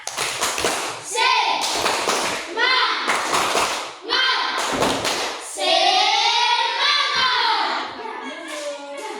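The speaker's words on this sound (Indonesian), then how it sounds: "tepuk semangat" Children in a classroom doing a rhythmic cheer clap for a presenting group, sharp bursts of clapping in patterned rounds alternating with loud chanted voices, close and lively.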